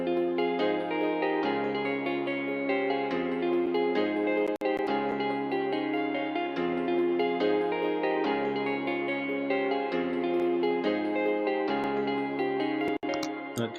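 Afro drill beat melodies with a sustained pad, a rippling arpeggio and a plucky plug lead playing together in a steady looping pattern, full and continuous with no drums or voices.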